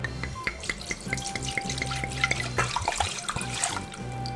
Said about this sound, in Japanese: 次に鍋を用意して、こちら日本酒を入れます